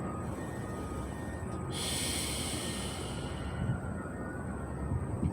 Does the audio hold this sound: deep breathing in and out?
yes